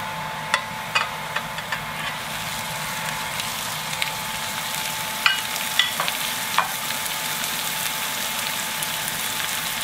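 Beef goes into onions frying in a pan, giving a steady loud sizzle with scattered spoon scrapes and clinks against the pan, alone without talk.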